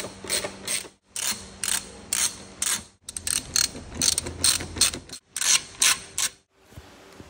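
A hand ratchet removes screws from the fairing of a BMW S1000RR-series sport motorcycle. Repeated bursts of close, loud clicking run in short strokes separated by brief pauses, with no talk.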